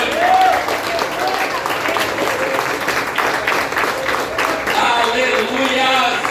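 A church congregation applauding at an evening service, a steady dense wash of clapping mixed with crowd voices and some shouts, continuous and fairly loud throughout.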